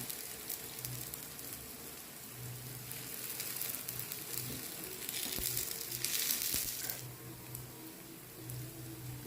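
Palm-jaggery paniyaram fry softly in a pan, giving a faint, continuous crackling hiss with a brief swell in the middle and a low background hum, and no voices.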